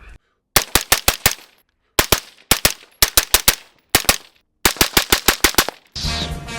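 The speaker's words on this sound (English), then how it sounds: "they're going to run it with this siege suppressor that I've been working with" A PSA Sabre forged AR-15 fires through a siege suppressor on a Keymo mount: several tight bursts of rapid shots, loud and close, with short pauses between groups.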